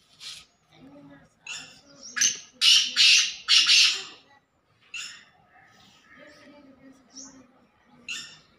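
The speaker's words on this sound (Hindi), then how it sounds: "बहुत ही अच्छा तितर है और बहुत ही अच्छी आवाज़ है इसकी" Black francolin (kala teetar) calling from nearby, a series of loud harsh squawking bursts in an uneven rhythm with short gaps, a few quieter chirps in between, and no one speaking.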